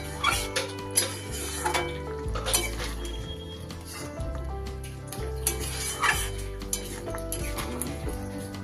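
Chicken patiala stirred in a pan as fried onion and capsicum are mixed through, with a utensil repeatedly scraping and clinking against the metal pan in a steady, close, busy rhythm; no voices.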